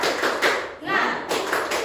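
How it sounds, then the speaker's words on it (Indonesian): Classroom of students doing rhythmic tepuk semangat spirit clapping, quick bursts of claps and shouting voices with a short pause in the middle, close and lively. "Tepuk semangat"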